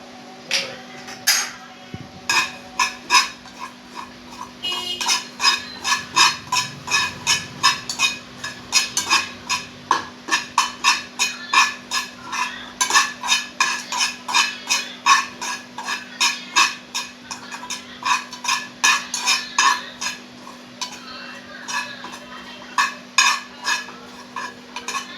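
Poppy seeds roasting in a pan while a spoon stirs them, producing a long run of rhythmic metallic clinks and scrapes against the pan, close and fairly loud, with a low steady hum underneath.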